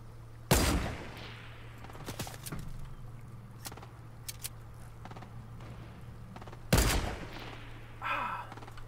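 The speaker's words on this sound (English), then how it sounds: "Who's shooting at me?" Gunfire in the Fortnite video game: two loud close shots, scattered fainter bursts of distant shooting between them, a final sharp report, all over a steady low hum.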